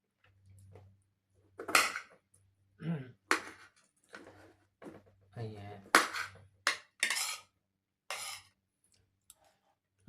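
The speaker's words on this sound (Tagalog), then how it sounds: "Ang ingay ng plato ko." A plate and cutlery clatter while someone eats, with scattered clinks and scrapes close by among soft chewing and mouth sounds.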